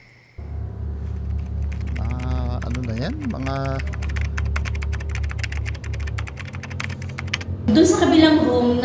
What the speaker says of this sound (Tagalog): maririnig mo, may nagtatype